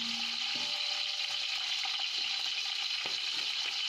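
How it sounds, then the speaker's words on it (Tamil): Green chillies, curry leaves and onions sauté in oil in a pan for chicken biryani, giving a steady, close sizzle and hiss with a few small clinks and stirring scrapes. "பச்சை மிளகா, நல்லா வதக்கி விட்டுங்க."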